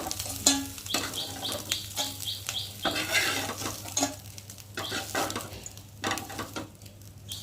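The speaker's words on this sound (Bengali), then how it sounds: "এখন আমি মাছগুলোকে তুলে নেবো ভালোই ভাজা হয়েছে" Small fish frying in a pan of oil with a soft sizzle, broken by repeated scraping and clinking of a utensil against the pan as pieces are lifted out, close and fairly quiet.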